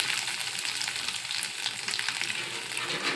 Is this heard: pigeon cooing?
no